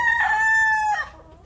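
A single Sweetness Gray gamefowl rooster crows once, loud and close, a sustained tonal call lasting about a second before it drops away, with no talking.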